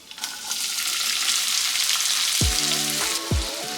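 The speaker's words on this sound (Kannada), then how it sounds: "ನೋಡಿ, ಎಣ್ಣೆ ಕಾದಿದೆ. ಈಗ ಇದಕ್ಕೆ ಅರ್ಧ ಸ್ಪೂನಷ್ಟು ಜೀರಿಗೆ ಹಾಕೋತೀನಿ." Cumin and finely chopped onions sizzle loudly and steadily in hot oil in a pan, with two sharp metallic scrapes of a spoon near the end.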